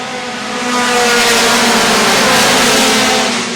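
Front-wheel drive race cars pack into turns 1 and 2, three wide, at a short-track feature: a loud, dense roar of several engines that swells as the field passes close, then holds at full volume.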